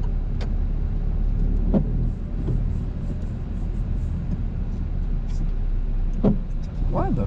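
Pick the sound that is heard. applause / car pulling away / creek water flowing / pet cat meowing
car pulling away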